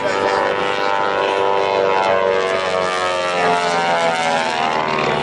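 An aerobatic Beech 18 propeller plane drones steadily overhead, its engine pitch shifting as it maneuvers, loud and continuous throughout.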